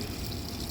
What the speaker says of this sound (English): Now I'll fill it with water and test it to make sure it's not leaking anymore.